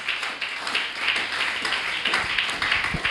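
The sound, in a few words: congregation clapping and acclaiming Jesus Christ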